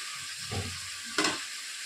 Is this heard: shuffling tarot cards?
no